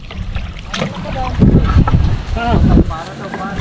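Wind buffets the microphone in gusty rumbles by a river, with voices talking over it and some water movement in the background.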